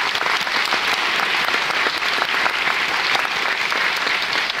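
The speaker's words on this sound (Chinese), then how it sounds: "我是给你掌声的" Sustained applause from a seated audience at a panel discussion on a June Fourth stage play, steady dense clapping at full volume with no voices.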